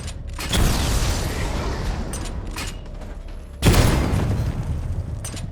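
Secondary weapon fire in Batman: Arkham Knight Remastered on PS5, with a sustained rumbling barrage that bursts into a loud explosion partway through and then keeps roaring.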